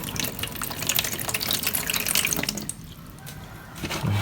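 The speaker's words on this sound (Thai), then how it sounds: "เดี๋ยวเราจะใส่น้ำลงไปหน่อยนึง" Water is poured close-up into a container holding Monthong durian seeds for soaking, a splashy, bubbling stream that eases off into softer trickles.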